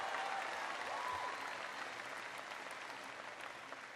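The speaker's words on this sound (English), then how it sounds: "Give mom and dad a big round of applause." Audience applause following a speech on college affordability, a steady wash of many hands clapping at a distance, fairly faint and even, with no voices over it.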